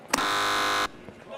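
A quiz buzzer is pressed during a quiz game on an esports tournament stream. It gives one loud, flat electronic blare that lasts just under a second, then cuts off sharply into quiet background.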